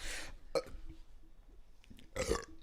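Burps from a host during a casual live holiday chat-show stream, a few loud bursts at the start, middle and end with quiet room sound between.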